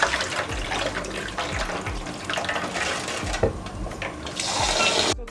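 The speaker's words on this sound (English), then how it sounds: "You have to wash it until the water is clear, and this is to wash out the starch too." Warm water rinsing rice in a bowl for Nigerian party jollof, a steady close wash of splashing and running water that continues throughout with no talk.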